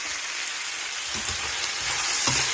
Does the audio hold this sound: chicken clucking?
no